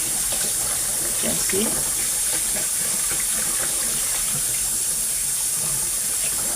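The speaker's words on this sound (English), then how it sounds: "I'm washing my rice now." Tap water runs steadily into a sink while rice is rinsed by hand for Jamaican callaloo rice with gungo peas, a constant hiss with faint splashes and a brief spoken remark.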